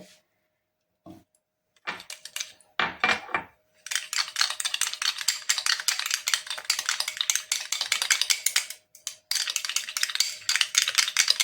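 A spoon scraping and clinking quickly in a small container while glycerin is stirred into a homemade night cream mixture, a few separate taps at first, then steady rapid rhythmic stirring up close.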